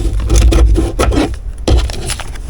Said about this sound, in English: Let's go ahead and trim this up just a little bit.